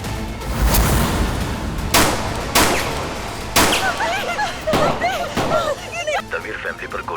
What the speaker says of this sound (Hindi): तमीर फैमिली पर गोलियां चली हैं।